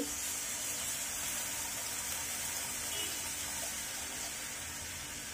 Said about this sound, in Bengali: এখন আমি এর ভিতরে দিয়ে দিচ্ছি পানি।